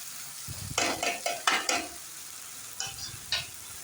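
A spatula stirs spice powders around a hot frying pan for chickpea curry, with a quick series of scraping strokes over a soft sizzle, then a pause and two more stirs.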